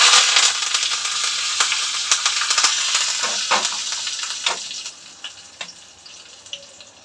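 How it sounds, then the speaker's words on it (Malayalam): Mustard seeds frying in hot oil for a tomato curry, a loud close sizzle with scattered sharp pops and crackles that gradually quiets over several seconds, with no talking. "കറിക്ക് ഇച്ചിരി കടുകൂടെ വറുത്ത് ചേർക്കട്ടെ"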